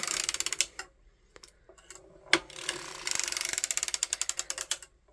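A hand-cranked circular sock knitting machine works a heel row, decreasing a stitch each row, with fast rhythmic ratcheting clicks in bursts and a brief lull midway.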